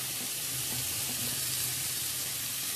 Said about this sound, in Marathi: आता आपण याच्यावर बांगडे पण असेच ठेवूया, ते पण फ्राई करून घेऊया।